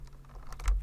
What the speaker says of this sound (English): So I'm just going to type a D on my keyboard.